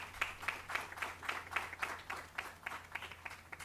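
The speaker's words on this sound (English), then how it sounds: "Another applause for her, please" Applause from the audience at the 2020 Burroughs Wellcome North Carolina Teacher of the Year ceremony, a steady patter of clapping with a rhythmic beat, fairly faint and distant, lasting throughout with no talk over it.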